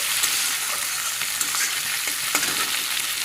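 Tomatoes fry in a pan with a dense, close hissing sizzle throughout, broken by a few soft taps and scrapes of stirring.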